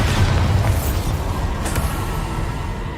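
A Bombarda blast spell from Hogwarts Legacy erupts in a loud, sustained booming roar that fills the whole moment, heavy low rumble with no voices over it.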